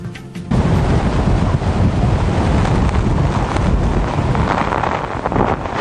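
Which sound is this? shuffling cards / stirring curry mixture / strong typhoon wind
strong typhoon wind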